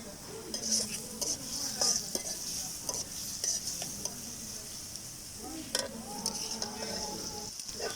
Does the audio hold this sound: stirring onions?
yes